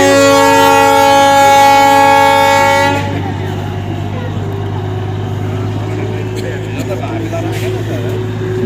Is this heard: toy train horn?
yes